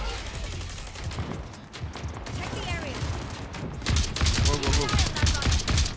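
Rapid gunfire crackles through an online shooter match as enemy players close in, bursts thickening and growing louder toward the end, with teammates talking over the shots.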